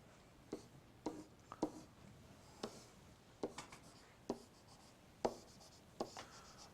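A pen or marker scratching out a hand-drawn list of linked-list nodes, about a dozen short strokes in irregular bursts, close and faint with no talk.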